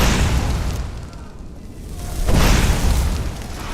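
A fire spell roars over a character in the Skyrim video game as a dense, steady rush of flame, swelling louder partway through with a deep rumbling undertone.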